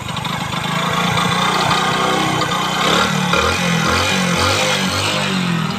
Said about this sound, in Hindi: इंजन का जो साउंड आवाज़ है तो वो हालांकि ठीक ठाक है